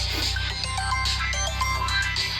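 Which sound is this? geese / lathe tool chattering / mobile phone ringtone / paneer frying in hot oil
mobile phone ringtone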